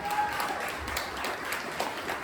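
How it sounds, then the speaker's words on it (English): Audience applause at an outdoor campground stage hypnosis show, a steady wash of many hands clapping at moderate level for a couple of seconds with no talk over it. "Give them two a round of applause."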